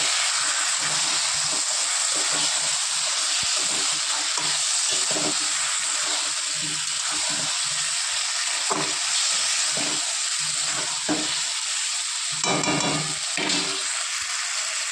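A paste of ginger, onion, garlic and tomato frying in hot oil with chili powder for a rohu fish curry, a loud continuous sizzle and hiss with intermittent stirring scrapes throughout.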